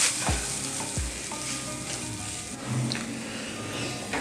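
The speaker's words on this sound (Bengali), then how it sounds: "দিয়ে মশলাটার সাথে ভালো করে মিশিয়ে নেবো।" Mashed potato is stirred and mixed with spices in a pan for Bengali egg devil, with a steady sizzle, a couple of sharp knocks of the spoon early on and ongoing scraping as it's worked together.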